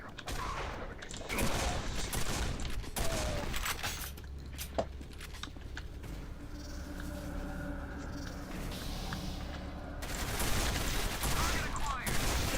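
Sustained gunfire in the Quake 4 shooter game comes in long, dense bursts over a constant roar of game noise and music, with player talk faintly underneath.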